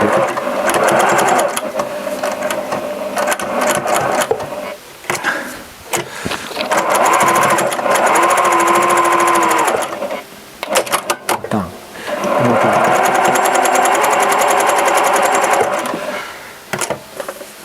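A Janome 780DX professional sewing machine runs in loud bursts of rapid stitching, stopping twice for short pauses with small clicks and handling noises before starting again.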